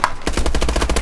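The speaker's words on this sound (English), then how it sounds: "He's got a freaking sentry gun." Sentry gun in Call of Duty: Advanced Warfare firing a rapid automatic burst: a dense, even stream of close, loud shots after a short quiet lead-in.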